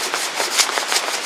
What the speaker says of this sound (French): c'est Pierre qui a pris la scie.